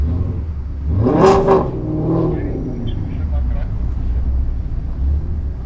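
A straight-piped Ford Mustang roaring past on the Nürburgring, its loud engine note swelling as it nears and then fading into a low rumble, with people talking over it.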